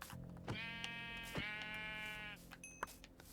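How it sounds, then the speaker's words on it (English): A Minecraft sheep gives two drawn-out bleats in quick succession, faint and somewhat muffled, followed by a few quiet game clicks and beeps. "I see a sheep"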